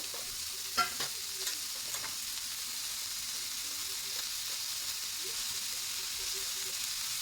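Tomatoes and spices frying in a pan with a steady hiss, while a spoon stirs them with a few soft scrapes and taps; no talking.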